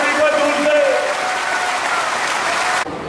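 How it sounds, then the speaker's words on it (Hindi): Dense crowd applause at a political rally in Datia for an airport foundation ceremony, loud and close, cutting off sharply near the end with a voice faintly under it. "जोरदार तालियों के साथ में तालियां"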